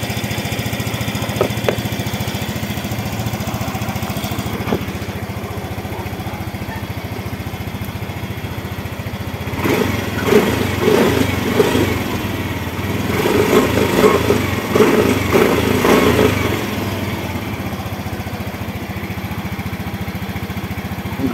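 A Yamaha Mio i 125 S scooter engine idles steadily at close range, a low even putter that swells into rougher, louder pulsing bursts midway before settling back to a smooth idle.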